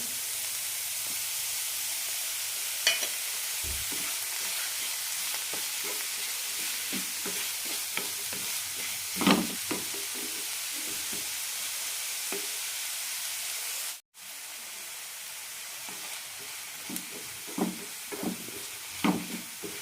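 Chopped vegetables and tomato fry in a pan for a ragi aval upma, a steady close sizzle and hiss broken by scraping stirs and clinks, with one very brief dropout near the end.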